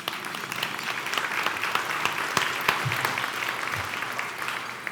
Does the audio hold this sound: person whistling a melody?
no